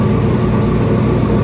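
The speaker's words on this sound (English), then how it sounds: "Now the car starts and runs like a champ." A car engine idling steadily right after starting with a custom engine tune, a loud continuous low rumble with no pauses.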